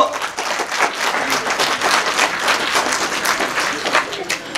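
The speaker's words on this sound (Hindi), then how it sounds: "आप पहले तालियां बजाने लगे।" An audience at a World Water Day event at a government senior secondary school in India claps steadily and fairly loudly for several seconds, a dense, continuous patter of applause.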